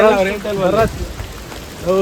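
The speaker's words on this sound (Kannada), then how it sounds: "ಮಳೆ ಬಂದ್ಬಿಟ್ಟು" Rain patters steadily in a forest beside an idling truck, beneath a person talking nearby, the voice coming in short bursts over the soft wash.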